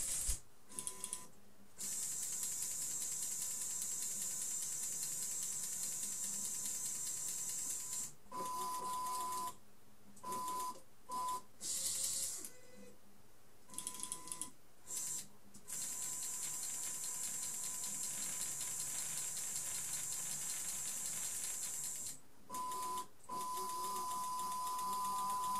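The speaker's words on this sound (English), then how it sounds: "Keep in mind that I'm controlling the motors manually here, hence the inaccurate positioning and the erratic movements from time to time." Small motors on a manually controlled model storage robot whir and grind in erratic stop-start runs, with ratcheting mechanical clicks and a thin motor whine, fairly quiet and close with no talking.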